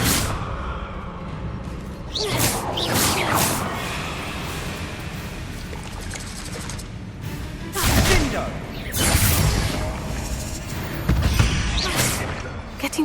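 The Confringo blast spell in the Hogwarts Legacy video game goes off in several loud, sharp explosive bursts, spaced a few seconds apart over a busy bed of game sound and music.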